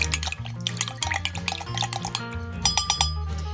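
Pizza dough ingredients are stirred in a bowl with a measuring spoon, giving irregular light clinks and taps against the bowl, close by with nobody talking.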